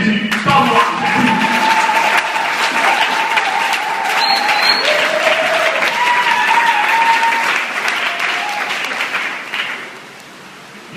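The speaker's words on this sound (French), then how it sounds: "si vous êtes là, vous pouvez acclamer Jésus. Pas moi, Jésus" A church congregation applauds and cheers for Jesus: loud, sustained clapping fills the room with voices shouting and ululating over it, fading toward the end.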